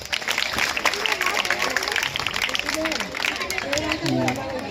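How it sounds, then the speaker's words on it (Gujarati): An audience at a school science fair applauds in a busy wash of clapping, with crowd noise and people talking over it throughout. "જોરદાર તાળીઓ મિત્રો, ખૂબ સરસ."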